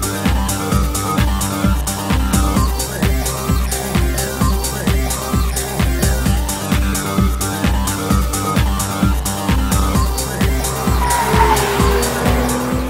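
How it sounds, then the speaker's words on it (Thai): A Porsche 911 50 Years Edition engine roars loudly through its sport exhaust system with a rapid, pulsing note, revving and surging continuously throughout. "ระบบท่อไอเสีย Sport Exhaust System ที่ปรับแต่งมาเพื่อให้เจ้าของสามารถเลือกการส่งเสียงของเครื่องยนต์ออกมาได้หลายระดับ"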